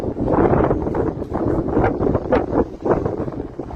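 Steady, blustery wind on a hilltop in Bursa buffets the microphone, a continuous low rumble that swells and gusts throughout, with no voices.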